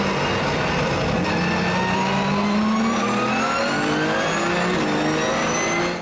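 From inside the cabin, a Porsche 911 Super Cup race car's engine pulls hard at Spa, rising pitch through gears in loud, continuous acceleration with no talk.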